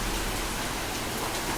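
A dense, steady roar of heavy rain mixed with hailstones pelting down, continuous and close with no pauses.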